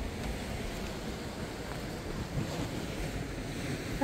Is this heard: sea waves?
yes